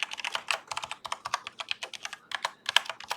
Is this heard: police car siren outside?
no